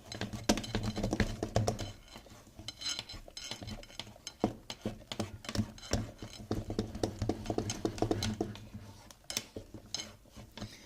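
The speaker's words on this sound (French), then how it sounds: "On commence par mélanger sans activer le batteur, afin que la farine ne s'éparpille pas partout." Chocolate almond cake batter with flour being mixed by hand with the beaters of an unpowered mixer, a continuous, irregular clatter of utensil against bowl, close and busy throughout, with no talk.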